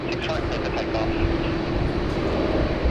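A Qantas heavy jet rolls for takeoff on runway 16R at Sydney Airport, bound for Johannesburg, with a steady, loud, broadband engine roar and deep rumble that holds for the whole stretch.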